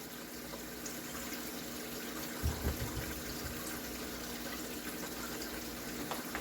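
Water gushes and pours continuously as an aquarium fish tank fills back up, a steady flow with a few brief splashy bumps partway through and no voices.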